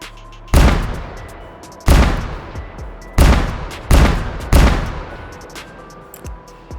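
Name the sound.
revolver gunshots in H3VR video game, Black Ops III guns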